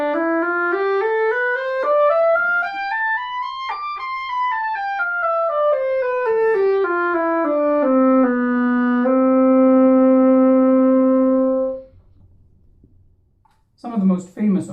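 An oboe played with circular breathing: a continuous phrase of quick rising and falling runs with no pause for breath, settling into a long sustained note before a brief breath and noise at the end.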